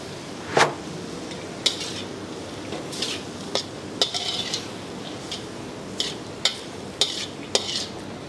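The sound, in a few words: stirring minced beef and pork while frying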